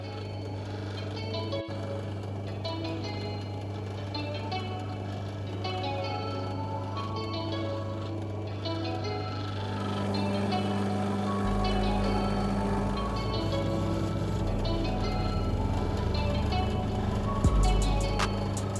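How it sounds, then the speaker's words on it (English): Opal polishing wheels spin at high speed on a Lightning Ridge black opal, a steady whirring motor hum that thickens and grows louder midway, with a few faint clicks near the end. "This is a quick run with a super fast spin on all the remaining wheels to take out the scratch marks."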